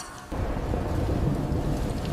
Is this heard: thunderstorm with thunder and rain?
yes